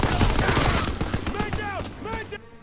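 Rapid World War II gunfire in Call of Duty: WWII pours out as dense bursts of loud shots during a firefight. Shouted voices and whistling effects rise over the shooting as it fades.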